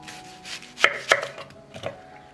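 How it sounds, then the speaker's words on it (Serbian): Knife chopping red onion into slices on a board, three distinct sharp cuts spaced apart over a quiet background, close and clear. "Luk sečem ovako na kriškice."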